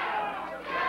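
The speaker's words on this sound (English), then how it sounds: "Still cheering for Jeff Jarrett" A USWA wrestling arena crowd cheers for Jeff Jarrett during his match against The Shadow, a dense roar of many voices that swells, dips briefly and rises again, loud and close.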